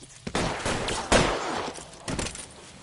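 Gunfire from the LA Noire video game: a few loud, sharp shots and short bursts ring out in quick succession, with some rattling debris between them and no clear talk.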